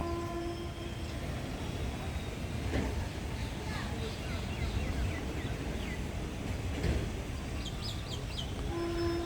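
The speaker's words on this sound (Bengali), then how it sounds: "বন্দে ভারত এক্সপ্রেস রাইট টাইমে পুরুলিয়া স্টেশনে থেকে ছেড়ে দিল" The Vande Bharat Express rumbles and clatters steadily as it pulls away from Purulia station, with a loud horn blast near the start and end and birds chirping faintly.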